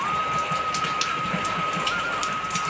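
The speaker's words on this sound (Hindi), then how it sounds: "तो भाई साहब तगड़ी बारिश आ रही है" Heavy rain pours down steadily outdoors, a dense continuous hiss of drops close to the microphone with a faint constant whistle-like tone running through it and no talking.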